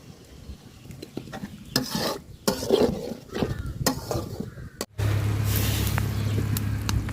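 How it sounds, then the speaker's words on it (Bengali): Ginger, garlic and cumin fry in oil on a clay stove while cooking rajhans duck with papaya, crackling sizzles with clanks and scrapes of a spoon, then a dense, steady hiss near the end. "আদা রসুন জিরাটা খুব সুন্দর করে আমি ভাজা নিচ্ছি তেলের সাথে"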